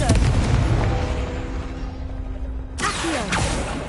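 A Confringo fire spell goes off in the Hogwarts Legacy video game, with a dense rumbling blast under ongoing game noise and a sharp new burst of explosive energy near the end.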